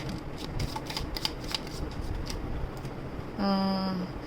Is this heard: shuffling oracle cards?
yes